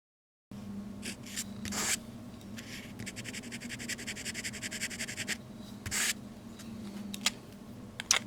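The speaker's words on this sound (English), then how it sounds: "that's got our writing done here with the 50-pound Koh-i-Noor sketch paper" Pen writing with Noodler's Dostoyevsky ink on 50-pound Koh-i-Noor sketch paper, close scratchy strokes in irregular bursts, with a longer rapid scribbling stretch and a few louder scrapes, no talking.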